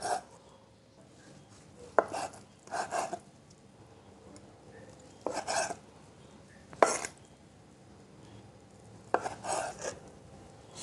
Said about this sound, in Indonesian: Tahunya juga sama, potong-potong seperti ini, tapi dibelah lagi kayak gini.